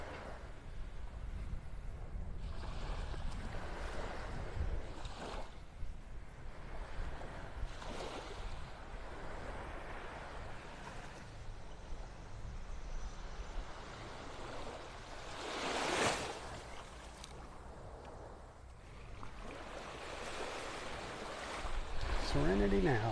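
Waves washing onto Vanderbilt Beach in North Naples, Florida, a continuous outdoor surf roar with wind and gusty swells, surging louder around the middle.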